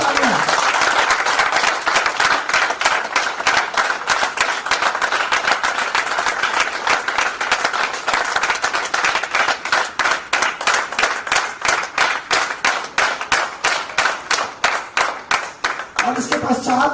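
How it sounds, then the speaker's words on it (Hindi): A large audience at a corporate event claps loudly and continuously, the applause settling into a rhythmic, synchronized beat before a voice breaks in at the very end. "आप सभी अपने लिए जोरदार तालियां बजाएंगे,"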